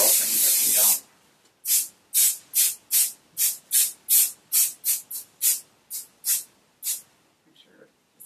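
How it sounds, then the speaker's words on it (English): 505 spray-and-fix fabric adhesive hisses from an aerosol can, first in one long blast, then in a rapid series of about fourteen short, even spurts, loud and close. "And this is 505 or something, spray and fix, that they have everywhere."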